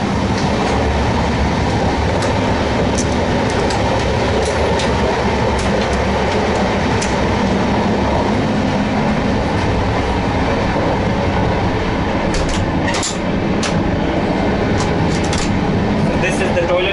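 An Indian sleeper class train runs steadily on the Bangalore to Berhampur route, with a loud continuous rumble and rattle of carriage and wheels filling the whole stretch, and faint clicks near the end.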